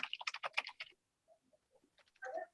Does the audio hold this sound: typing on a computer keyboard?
yes